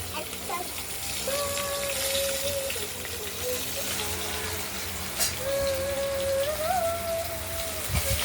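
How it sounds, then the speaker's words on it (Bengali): Pieces of freshly cut katla fish fry in hot oil, giving a steady, close hiss and sizzle that runs the whole time with small fluctuations. "আমরা মাছগুলো ভাজা হয়ে গেছে, তুলে নিলাম।"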